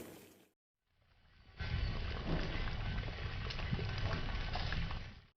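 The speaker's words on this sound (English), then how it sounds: "you can see the water is boiling" After a brief silence, a steady bubbling roar of water boiling in a beaker rises and holds, close and moderately loud.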